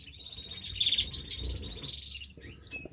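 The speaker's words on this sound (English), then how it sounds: "These are also silver bill babies." Baby silverbill finches in a backyard bird shed chirp and tweet in a continuous high, busy chatter, near and steady throughout.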